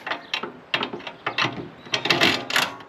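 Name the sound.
loosening and lowering the saw blade guard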